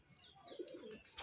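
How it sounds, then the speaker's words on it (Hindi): Pigeons coo softly on a rooftop in a short, faint burst of low throaty calls, heard from a little distance. "हम अपने कबूतर बंद करने लग गए।"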